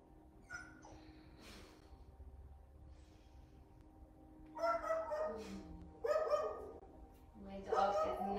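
A dog barks indoors during a yoga class, first faint yips and whimpers, then three loud bursts of barking spaced a second or so apart toward the end.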